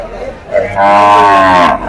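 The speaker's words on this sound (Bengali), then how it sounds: "আমি আজকে আপনাদেরকে দেখাবো 12 বাজার হাটের সব গাভী গরু" At a cow market, a cow lets out a single loud, drawn-out moo close by, lasting over a second over faint background noise.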